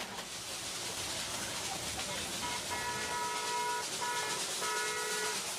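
Small narrow-gauge Darjeeling Himalayan Railway train climbing toward Darjeeling in the Himalayas, with steady steam hiss and rumble throughout and a series of sustained whistle tones sounding over the noise in the second half.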